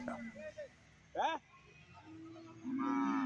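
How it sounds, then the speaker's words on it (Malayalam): Young bulls lowing at a cattle market, a few short close moos over low crowd murmur, ending with a longer drawn-out call. "ഇവിടെ നല്ല നല്ല മുരിക്കുട്ടികൾ നിൽപ്പുണ്ട്"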